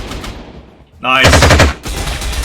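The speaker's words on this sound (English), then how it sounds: "The AA gun scored itself a kill." An anti-aircraft gun fires a loud, rapid burst in the Panzer Corps 2 wartime strategy game, a dense rattling volley lasting under a second after a softer rumble, followed by lingering explosive noise.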